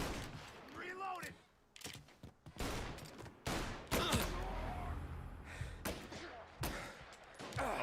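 Rapid bursts of gunfire in a competitive shooter video game, loud sharp cracks and short volleys spread across the clip, mixed with in-game impacts and effects.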